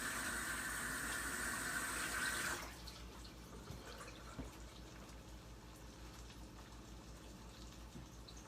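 Tap water runs steadily for a couple of seconds while hands are washed under it, then shuts off, leaving faint drips and small knocks in a quiet room.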